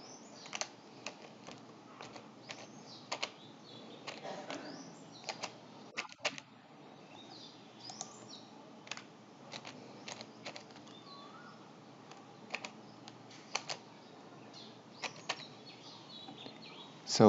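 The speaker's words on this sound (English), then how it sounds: "So I'm going to type a password." Someone types a password on a computer keyboard to set up drive encryption, scattered quiet key clicks coming in short bursts over a faint steady background hiss.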